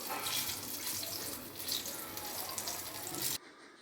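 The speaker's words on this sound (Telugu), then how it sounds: "తింటే సలసలలాడే నూనెలో ఎలా ఈత కొడుతున్నాయో చూడండి బజ్జీలు" Green chili bajji fritters deep-fry in very hot oil, producing a loud, dense, continuous hiss up close that stops abruptly just before the end.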